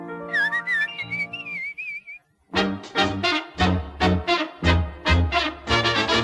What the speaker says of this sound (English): there's an impudent refrain that is running round my brain that I often like to whistle